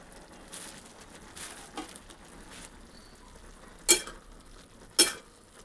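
Spring onion greens fry in oil with turmeric and homemade spice masala, a faint low sizzle and soft stirring punctuated by two sharp spatula clinks against the pan, with no one speaking.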